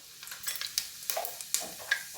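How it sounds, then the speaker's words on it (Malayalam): Mustard seeds and cumin crackle in hot oil in a pan, a faint background hiss broken by a string of sharp, irregular pops and spits, close by and quiet. "കടുകും ജീരകവും പൊട്ടിക്കഴിയുമ്പോൾ നമ്മൾ പച്ചമുളക്,"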